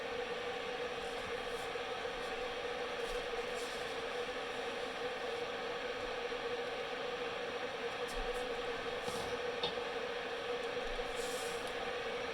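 Steady rushing, hissing roar of water heating in a Chefman electric kettle, constant and moderately close, with faint occasional clicks and rattles.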